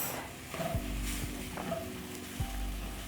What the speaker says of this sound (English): Then I'm going to scramble together my eggs and the onions.